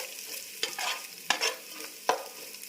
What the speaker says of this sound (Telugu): ఇక్కడ అల్లం వెల్లుల్లి పేస్ట్ కూడా ఎర్రగా వేగింది, మాడకుండా వేగాలి